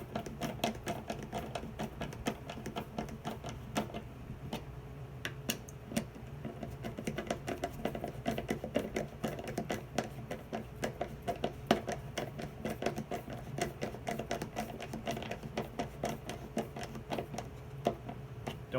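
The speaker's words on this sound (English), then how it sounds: "You're just going to screw it together." A hand screwdriver drives provided screws into a wooden birdhouse during assembly, giving a steady, dense run of small clicking and ratcheting taps close by with no talking.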